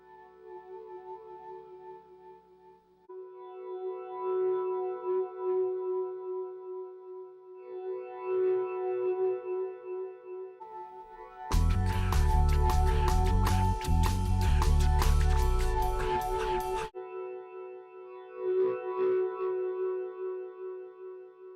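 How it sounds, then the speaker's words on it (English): Clean notes from a PRS SE Hollowbody electric guitar with piezo blended swell in softly via volume swells, ringing with echo, then a loud burst of distorted strumming before the gentle swelling notes return. "roll the volume down and do volume swells"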